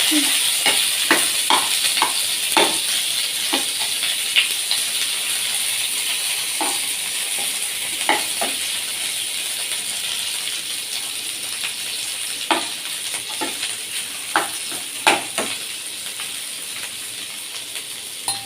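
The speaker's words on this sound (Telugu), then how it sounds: "ఇలా ఫ్రై చేస్తూ ఉండాలండి." Small chopped pieces of ginger and garlic fry in hot oil in a pan, a constant loud sizzle broken by repeated scrapes and clicks of a spatula stirring them.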